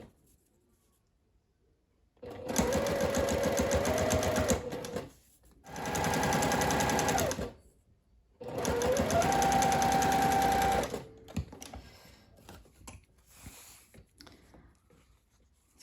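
Three long bursts of close sewing-machine whirring at a 2.5 stitch length as a strap is stitched an inch from its edge, each run rising slightly in pitch, with quiet gaps between and faint handling noise after.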